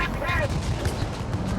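Gunfire in the game Dark Envoy: a cluster of booming, rumbling shots in quick succession, close and heavy, with a voice speaking over the volley.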